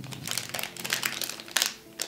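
Paper of a Tokidoki Mermicorno series 3 surprise blind-bag sachet crinkles close up, with irregular rustling bursts and a sharper crunch near the end.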